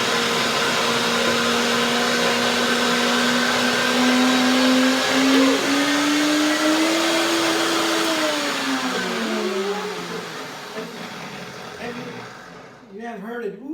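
A blender runs loudly and steadily, blending a raw vegan strawberry pie filling, its motor pitch climbing and shifting midway before winding down near the end.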